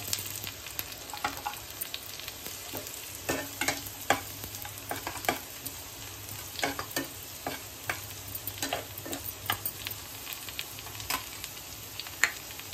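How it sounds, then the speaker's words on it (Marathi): Coconut roasts in a pan for misal with a soft, steady sizzle. A spatula scrapes and stirs at a loose rhythm throughout, the strokes close and distinct against the quiet frying. "आता आपण खोबरं पण भाजून घेऊ."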